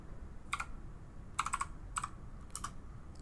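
Text is typed on a computer keyboard in short bursts of crisp keystrokes, a few quick clicks at a time with brief pauses between, close and fairly quiet.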